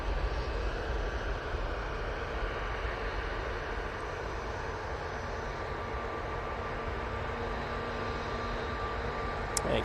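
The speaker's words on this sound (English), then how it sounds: "You can see the air tanker passing through the shot." An air tanker aircraft passes over Manchester Airport, a steady distant engine roar and rumble holding evenly across the whole stretch without voices.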